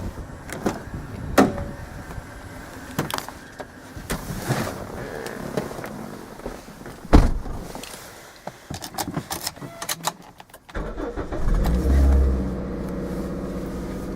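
A Toyota MR2 with rusted brakes runs in a confined backyard. Clunks and clicks come first, then a low, steady engine rumble swells louder toward the end.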